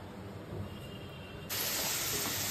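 Potatoes and carrots fry in hot oil with nigella seeds and chilli. A faint, steady sizzling hiss jumps suddenly louder partway through and then holds at the higher level.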